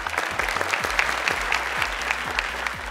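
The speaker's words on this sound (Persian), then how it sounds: "مجیب سیما تشویق کنید هر دویشانم." Studio audience on the Persian Family Feud game show Ro Dar Ro applauds both contestants, steady close clapping with a regular pulsing rhythm running through the whole stretch, with no talk over it.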